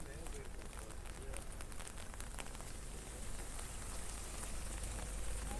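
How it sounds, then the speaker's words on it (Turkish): Steady rain falls on a street in Edinburgh, a dense, continuous patter and hiss across the whole stretch, fairly loud and close, with scattered sharper drops. "Yağmur da var aynı zamanda."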